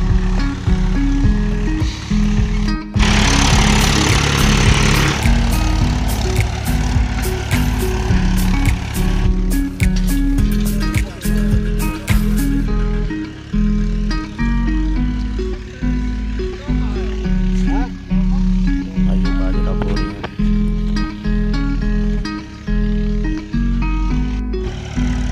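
A Mahindra 265 tractor pulling a cultivator at full depth through a field, its engine chugging and rattling steadily throughout, with bursts of louder clatter and wind noise and someone talking over it.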